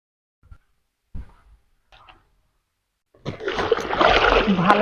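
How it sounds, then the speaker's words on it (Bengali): Leafy greens (saag) washed by hand in water: a few soft knocks give way to steady, close splashing and sloshing that fills the last second and a half. "শাক বাছা হয়ে গেছে, এবার ধুয়ে নিয়ে এসে কুচিয়ে নেব।"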